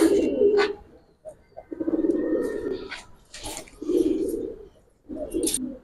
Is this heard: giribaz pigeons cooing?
yes